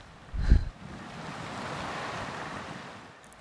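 Waves wash in at the water's edge with a soft, steady surge, joined by wind buffeting the microphone and a brief thump near the start.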